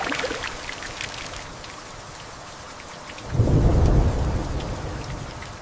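Steady rain hisses throughout, then a deep rumble of thunder swells midway and slowly fades beneath the downpour.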